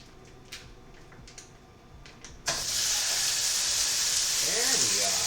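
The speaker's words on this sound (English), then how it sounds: "Let's see if we can get this beef in the pan." Beef for a Mongolian-style stir fry hits a hot frying pan and bursts into a loud, steady sizzle that holds for several seconds after a few light clinks of utensils.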